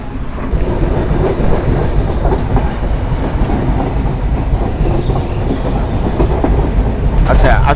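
A train crosses the 4.8 km Jamuna rail bridge, Bangladesh's longest railway bridge, with a steady clickety-clack of wheels over rail joints and a constant rumble from start to finish.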